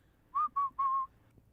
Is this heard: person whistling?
yes